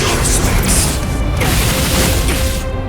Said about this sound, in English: he just does multiple energy barrage